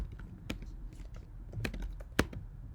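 A computer keyboard is typed on at the command line, a handful of sharp, irregular key clicks spaced apart against a faint background hiss, one stroke near the end louder than the rest.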